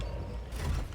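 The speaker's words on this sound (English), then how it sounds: "These elevators are gonna get old." A Genshin Impact elevator mechanism grinds and creaks steadily, a dense, continuous mechanical rumble that swells slightly halfway through, with no talking.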